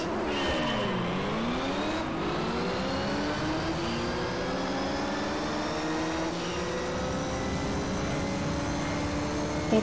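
A race car engine in the Gran Turismo 3 video game drops in pitch as it brakes hard early on, then holds a loud steady high drone alongside other cars throughout.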